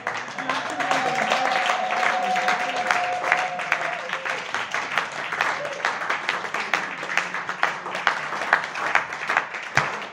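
Applause from a congregation at a church seminar rises into sustained clapping and cheering over a droning tone, continuing for the full ten seconds with brisk, dense handclaps.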